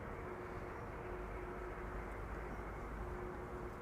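An aircraft taxiing across a runway at Amsterdam Schiphol Airport gives a steady, distant low engine rumble and roar, continuous and unchanging throughout with no voices.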